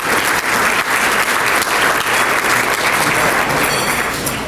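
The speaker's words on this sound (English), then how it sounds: "please give them a round of applause" An audience at a community awards dinner breaks into sustained, loud applause, dense clapping from many hands filling the room steadily from start to finish.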